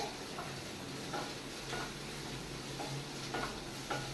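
Chopped onion fries quietly in a pan for egg masala: a faint, steady sizzle with occasional light scrapes of stirring scattered through it, heard from a slight distance.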